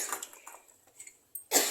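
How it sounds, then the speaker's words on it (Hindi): A single sharp cough bursts out near the end of a quiet stretch with faint scattered ticks before it. "सॉरी खांसी आ गई थी।"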